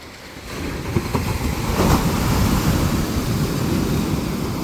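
Rough sea surf rolls and breaks steadily on a shore where boats are pulled up on the beach, a continuous close broadband roar with wind buffeting the microphone.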